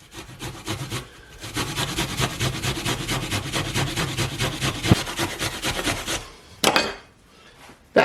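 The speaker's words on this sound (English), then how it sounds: "I'm going to grate it on the small grater again." A Fuji apple rubbed against a small grater gives a steady run of quick, rhythmic rasping strokes for several seconds, close and clear, then stops with a few handling knocks.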